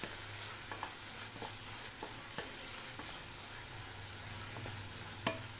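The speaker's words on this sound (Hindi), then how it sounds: "इसको हम लगातार अब चलाते रहेंगे।" A grated bottle gourd barfi mixture with cardamom powder is stirred continuously in a pan, giving a soft, faint sizzle under regular light clicks and scrapes of the spoon against the pan.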